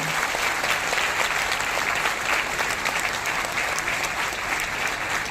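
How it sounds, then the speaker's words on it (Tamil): A crowd applauds steadily, a dense, even wash of clapping that holds at the same level from start to finish. "முதல்வர் திரு மு க ஸ்டாலின் அவர்களுக்கும் எங்களது மனமார்ந்த நன்றியை கரகோஷம் எழுப்பி அறிவித்துக் கொள்கிறோம்"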